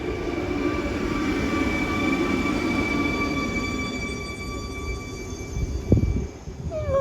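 A PKP Intercity FLIRT electric multiple unit runs through Nowy Dwór Mazowiecki station with a loud, sustained rumble of wheels on rail and a steady whine, then a brief squeal and clatter near the end.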